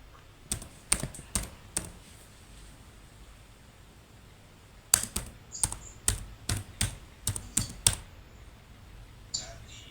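Computer keyboard typing in two bursts of crisp, close key clicks: a few quick taps, a pause, then a longer rapid run of keystrokes, with no voices over a quiet background.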